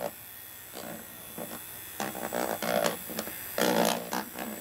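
A Wada electric milk frother whisks milk with a small buzzing motor hum, fluctuating in loudness as the whisk moves through the milk, with occasional handling noises.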